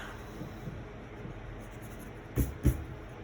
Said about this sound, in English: We erase the guidelines